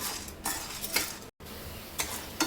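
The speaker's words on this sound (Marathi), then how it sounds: "डाळीला पण लालसर होईपर्यंत भाजून घेऊया" Chana dal dry-roasting in a pan, stirred until reddish, giving a soft rustling scrape with a few louder spoon strokes and light clinks. It is quiet and close, broken by a brief gap, with no talk.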